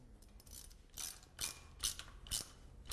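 A hand ratchet tightens an over-temperature switch on a thermostat housing, giving about five quick clicking bursts in an even rhythm, close and fairly quiet with no talking.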